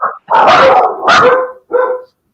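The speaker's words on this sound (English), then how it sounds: "The dogs agree. And the pup is back." Dogs bark close by, loud and unaccompanied, in three quick barks. The first is a short yip and the others are longer, strained woofs.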